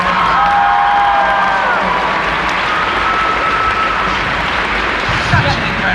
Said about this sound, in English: can we get a big round of applause for Jay and Bethany